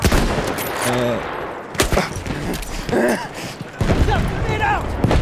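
Single-shot carbine fire from the Battlefield 1 video game, sharp reports spaced through a busy battle mix with bursts of distant gunfire and game voices in the background.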